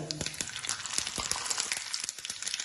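Cumin and mustard seeds hit hot oil in a pan, crackling and popping in quick, irregular bursts over a continuous sizzle, close and fairly quiet.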